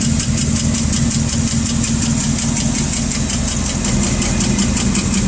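A ratrod car engine, not run for a while, idles loudly up close while warming up, holding a steady rough rumble with a regular ticking pulse and no voices.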